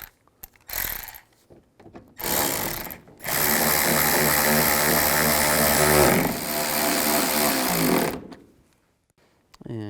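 Screws being driven and tightened into a tail light housing on a 2011–2014 Chrysler 200, giving close, ratcheting mechanical whirring in several bursts with short pauses between them.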